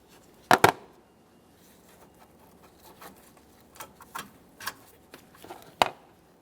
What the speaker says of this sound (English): We're going to use a 10mm to loosen this nut just enough that the terminal end breaks free from the battery